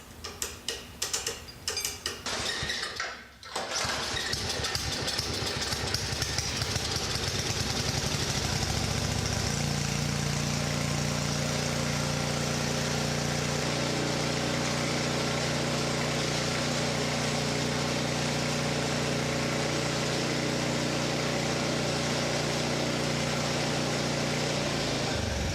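An old Sears Craftsman snowblower engine, just repaired, runs steadily at a close distance with a constant mechanical drone after a few brief rattling bursts at the start.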